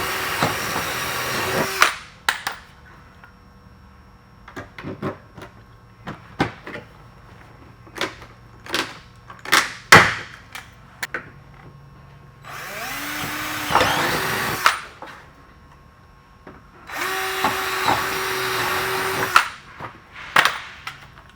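Power drill boring a rivet hole through a golf cart body panel during a Sleekline EZGO body kit installation, three loud whining bursts of drilling separated by handling clicks and taps, close up with no talk.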